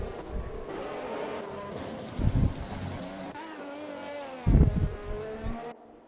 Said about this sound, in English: Seeing all those cars go through the castle section.